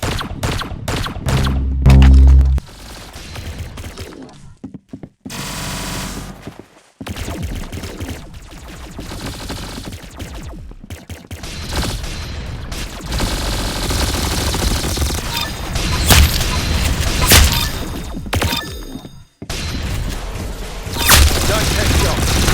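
Gunfire in a shooter video game: bursts of rapid automatic fire and heavy booms, with brief silent gaps and people talking over the shooting.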